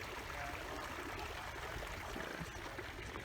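Water running beside a frozen pond near Okanagan Lake in Penticton, a steady close trickling flow with broad noisy wash, continuous and unbroken with no voices.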